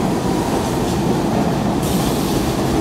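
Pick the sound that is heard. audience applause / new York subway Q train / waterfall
new York subway Q train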